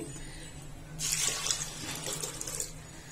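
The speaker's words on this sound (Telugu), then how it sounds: "సరిపోయేంత నీళ్లు పోసి పెడుతున్నాను." After a quiet second, water gushes into a clay cooking pot in a steady splashing pour that lasts until the end.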